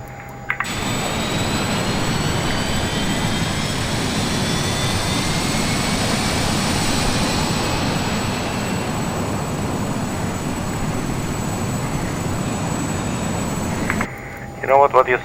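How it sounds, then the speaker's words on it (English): A Learjet 35A jet engine running up in Microsoft Flight Simulator 2, a loud steady roar and whine that rises slowly, holds for over ten seconds, then cuts off abruptly, with a brief voice near the end. "So let's fire up engine number 2."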